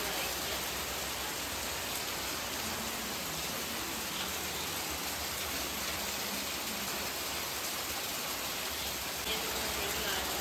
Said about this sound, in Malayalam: രാത്രി നല്ല മഴയാണ്